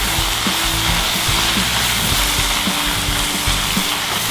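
Green beans being stir-fried in a pan give a continuous close sizzle and hiss, with repeated scrapes and knocks of stirring against the pan throughout.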